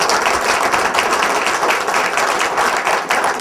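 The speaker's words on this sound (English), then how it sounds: "How about a round of applause for our panelists?" Audience applause for panelists at a small business forum: dense, steady clapping from many hands filling the room, loud and sustained without pause.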